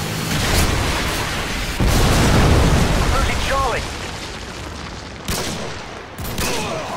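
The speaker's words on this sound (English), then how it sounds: "Friendly Predator missile inbound." A Predator missile strike in the video game Modern Warfare 2 sets off a heavy rumbling blast with booming bursts and crackling debris, followed by sharper pops and game radio chatter.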